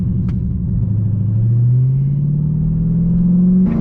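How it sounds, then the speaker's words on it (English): A car behind revs its engine, heard from inside a Dodge Charger Hellcat as a steady low rumble that climbs slowly in pitch over a few seconds, loud and close, with no talking. "this dude behind me trying to rev."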